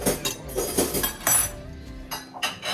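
Glasses of cucumber water clink together in a home dinner toast, several quick bright clinks in a row, close and fairly loud, with a little kitchen clatter around them.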